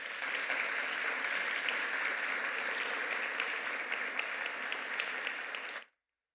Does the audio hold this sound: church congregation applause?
yes